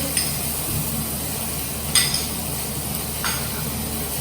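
Ginger paste sauteing in a pan with chillies for paneer in white gravy, a low steady frying hiss broken by three light metallic clinks of a spoon against the pan, close and without voices.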